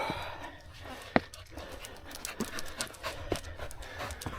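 A dog pants on a wet mountain crag climb, quick breathy huffs close by with a sharp knock and a few light scuffs mixed in, and no talk over it.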